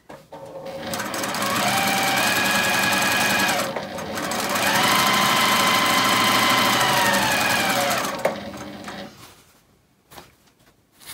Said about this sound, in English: nesting them in the middle in a pin and sewing 1/4 inch all the way along